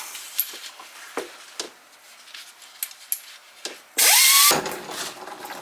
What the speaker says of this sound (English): that gasket off as much as we can before we put the air tool on it